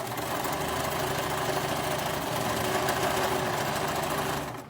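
A sewing machine runs continuously in a fast, even mechanical whir of stitching, close and fairly loud, with no talking.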